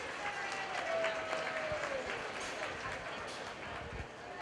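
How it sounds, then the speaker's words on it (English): Audience applause at a 4-H and FFA market hog show at a county fair, a sustained spread-out clapping from the crowd with animal and arena noise mixed in, moderately loud. "Let's give them a nice round of applause"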